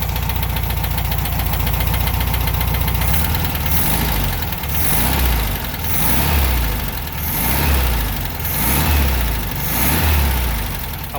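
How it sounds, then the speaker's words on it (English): A 1969 Volkswagen Super Beetle engine idles, then revs up and down repeatedly, loud and close, in a steady rising-and-falling rhythm of about four throttle swells, with no talking. "Let's see how it accelerates."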